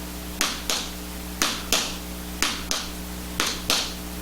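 Crisp, sharp taps on a hard floor come in quick pairs, roughly twice a second, in a steady shuffling rhythm with a low hum underneath.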